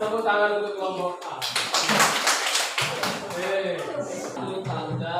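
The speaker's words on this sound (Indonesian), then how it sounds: "Tepuk tangan untuk kelompok A." Applause for group A at a teacher-training class session, a burst of clapping from a small group lasting a couple of seconds, with voices talking before and after.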